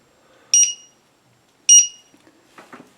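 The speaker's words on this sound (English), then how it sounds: "And then I put my buzzer." Two sharp electronic beeps from a buzzer on a drone spotlight build sound about a second apart, followed by a brief muffled rustle or clatter.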